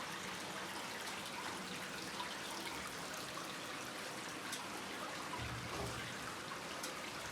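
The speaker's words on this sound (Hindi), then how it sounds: "कुंड के अंदर से ये पानी आ रहा है।" Water flows steadily out of a temple pond that opens onto a cave, a soft continuous trickling wash that stays even and fairly faint throughout, with no one speaking.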